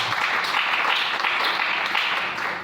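A church congregation claps and cheers in praise to the Lord, a dense, sustained wash of applause that fills the room evenly for a few seconds before easing slightly at the end.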